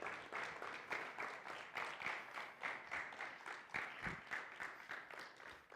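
Steady applause from an audience at a church gospel appointments session, a dense continuous patter of many hands clapping throughout, moderately loud and fairly even.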